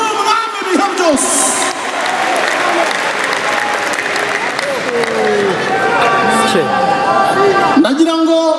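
Church congregation applauding steadily after a pastor's praise, a dense sustained clatter of clapping with scattered voices and cheers mixed in, continuing at even loudness throughout.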